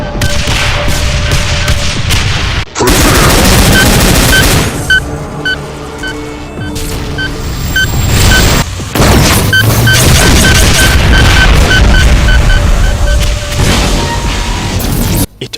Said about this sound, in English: dual barrages of homing rockets.